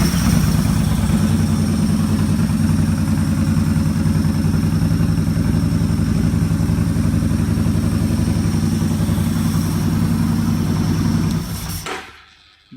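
Yamaha Bolt motorcycle with a keyless RFID ignition system runs loud and close in a steady, rumbling idle with a rhythmic throb, then cuts off abruptly near the end, leaving silence.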